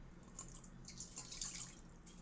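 Water poured from a glass for making quick no-knead bread dough, a soft continuous trickling and splashing that runs steadily for about two seconds at close range with no talking.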